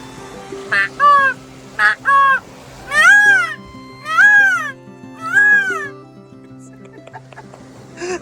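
A person imitates a peacock with a few short calls, then three long, loud, rising-and-falling wails spaced evenly apart, close to the microphone.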